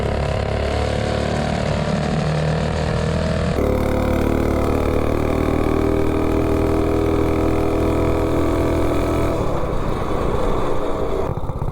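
A Coleman B200 mini bike fitted with a Juggernaut engine runs loud and close in a steady, continuous drone, with a noticeable shift in pitch a few seconds in.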